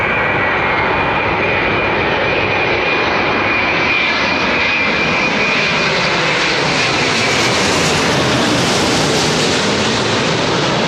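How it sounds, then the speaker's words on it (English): A Boeing Dreamliner jet airliner roars loudly and steadily at London Heathrow Airport, with a thin high whistling note riding over the broad engine rush throughout. "Listen to the sort of like whistly note that you get from these Dreamliners."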